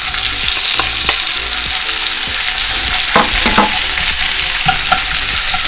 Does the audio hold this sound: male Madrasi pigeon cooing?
no